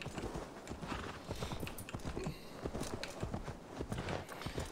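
A horse's hooves clip-clop in a steady, even walking rhythm as it is ridden slowly through a snowy settlement in Assassin's Creed Valhalla, fairly close but quiet, with no voices.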